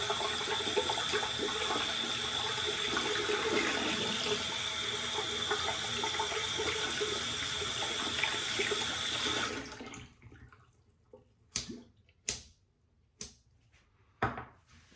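Steady rushing tap water runs for several seconds while rinsing soap from a synthetic shaving brush, then cuts off, followed by a few sharp clacks and knocks close by.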